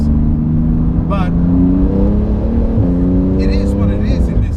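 Porsche 911 GT2 RS turbocharged engine revving up under load, its deep harmonic drone climbing in pitch, loud and close, with a brief shift and a voice talking over it.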